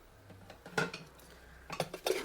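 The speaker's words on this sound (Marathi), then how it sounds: "भांडी धुवून घेणे" Dishes being washed by hand, with cutlery and pots clinking in bursts of nearby clatter against a quiet background, busier toward the end.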